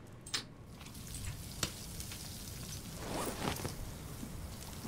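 Sardines sizzling as they cook over a fire in the survival video game Stranded Deep, a faint continuous crackling fry with a few sharp pops and clicks, no voices.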